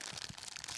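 Small plastic packaging holding six-LED flasher indicator lights crinkles and crackles briefly as it is handled, faint and close.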